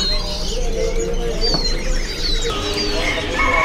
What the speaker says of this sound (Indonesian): Untuk burung kinonya. Cucak kino ini ya.